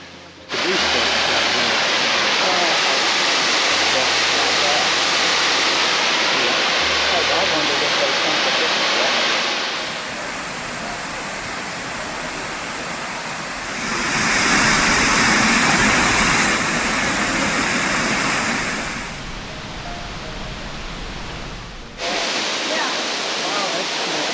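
Miners Fall waterfall roars as a loud, continuous broadband rush of falling water, close and steady, shifting in intensity as the listener moves along the steps toward the lower viewing area.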